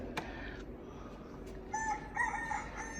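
A rooster crows at a moderate distance, its call rising over a quiet background with a few faint knocks beforehand.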